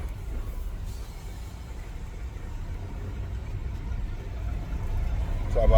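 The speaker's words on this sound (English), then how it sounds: "I'm in a truck right now, so I'm just trying to navigate. I'm going real slow" A truck engine rumbles low and steady while the vehicle creeps along slowly, a continuous muffled drone heard from inside the cab, growing slightly louder toward the end.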